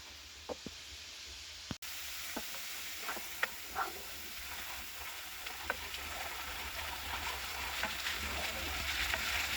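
A yogurt and egg mixture sautés in a pan, giving a faint, steady sizzle with occasional small pops and light stirring noises, and no talking.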